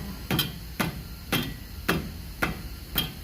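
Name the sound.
hammer knocking Chevy Impala front hub assembly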